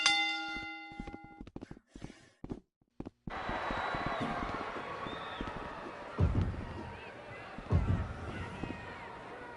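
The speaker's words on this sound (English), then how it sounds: "Ring the bell." A bell clangs loudly several times in a lively indoor setting, its ringing tones lingering over a wash of crowd noise and scattered thuds.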